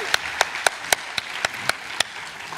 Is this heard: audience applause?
yes